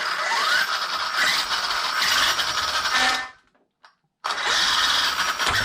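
An Arrma Kraton 8S RC car with a large coke-can-size motor whines steadily and loudly during setup, cuts out briefly near the end, then spins up again.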